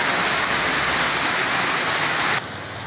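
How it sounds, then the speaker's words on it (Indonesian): Heavy rain pours off a roof in Desa Mentawak on an afternoon downpour, a loud, dense, steady rush of water that drops abruptly quieter near the end. "Bisa teman-teman perhatikan bahwa hujannya sangat deras."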